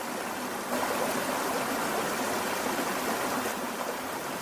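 Massive flood water rushes in Pakistan, where a trapped car and an excavator sit in the high-pressure current. It is a continuous, loud, roaring torrent, steady throughout and close by, with no voices.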